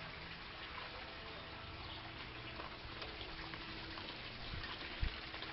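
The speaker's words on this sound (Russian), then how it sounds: "Вон водопадик." A small waterfall near the sea gives a steady, even rush of falling water, a constant wash of noise heard from a short distance, with one brief thump near the end and no voices.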